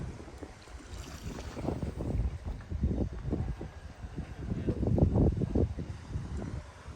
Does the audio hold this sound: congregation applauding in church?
no